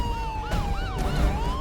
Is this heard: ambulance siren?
yes